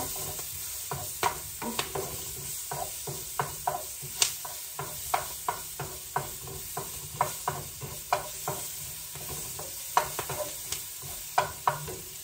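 Garlic sizzling in a frying pan with steady crackle, while a utensil stirs and scrapes at a regular pace, sharp clicks coming every second or so; no one speaks.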